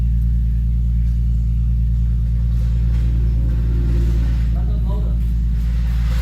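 A 2008 Infiniti G35 with new downpipes rumbles steadily at idle, a deep, loud exhaust drone running throughout, with a brief rise near the end.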